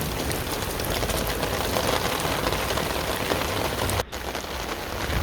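Heavy downpour pounds a rooftop garden full of potted plants during a typhoon, a dense steady hiss of rain on surfaces close by, unbroken with no talk, briefly dipping near the end.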